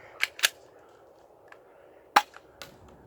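A handgun being fired at an orange target, two quick cracks close together at the start, then a fainter shot and another sharp report later, with quieter pops in between.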